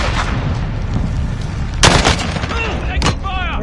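Video game gunfire bursts at close range, with a loud, dense volley of shots in the middle over constant battle noise and a radio-style voice cutting in briefly.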